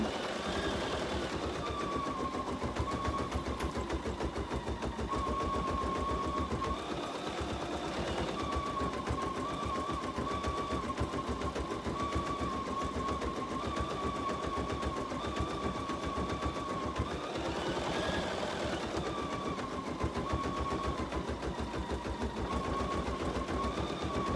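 An embroidery machine stitches steadily and close, with a fast rhythmic mechanical chatter and a humming motor tone running the whole time, pausing briefly now and then.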